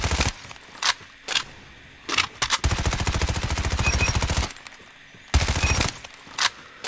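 QQ9 submachine gun fire in a video game: quick single shots and short bursts, then a sustained rapid stream of rounds. More brief bursts follow, loud and close.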